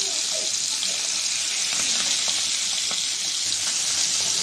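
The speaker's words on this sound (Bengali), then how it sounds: "মাছটা ভাজা হয়েছে। আমি এই পিঠটা উল্টে দিব এখন।" Young hilsa fish frying in oil in a pan, giving a steady, loud sizzle and hiss that runs unbroken throughout with no voices.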